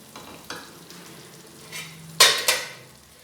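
Half a cup of water poured into a pan of sizzling fish curry gravy, giving a few sharp hissing bursts near the end after quieter stirring and cooking sounds, with no talk.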